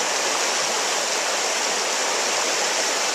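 River water rushes steadily along Mill River, a loud, even broadband roar of flowing water close by with no voices.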